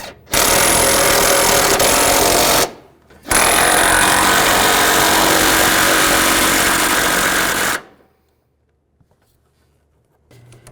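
Engine mount bolts being tightened on a Chevrolet Equinox with a power tool. Two long, loud, close-up bursts of harsh rattling and whirring, separated by a short pause, then near silence.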